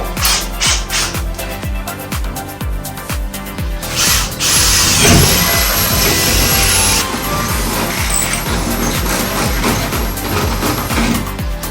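A pilot hole drilled while building an overland truck: a loud, close power drill runs in rapid rhythmic pulses, then in a steadier continuous whir before slowing near the end.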